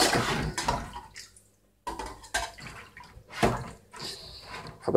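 Plastering trowels being washed under running water in a cramped sink, with bursts of splashing and clattering metal, a brief quiet gap, then more rinsing and rattling close by.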